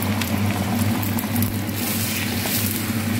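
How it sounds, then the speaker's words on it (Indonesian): Eggs frying in hot oil in a pan, cooked half-done and scrambled, giving a steady close sizzle and crackle that runs unbroken throughout. "Setelah minyaknya panas, langsung telurnya bisa digoreng-goreng setengah matang"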